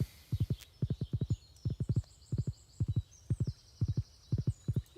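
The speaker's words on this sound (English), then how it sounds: "in the vein of naming my dog Doggy, my horse is named Horsey" A horse's hooves clip-clop in a video game, steady rhythmic clusters of sharp knocks repeating evenly at moderate volume with faint ambient birdsong behind.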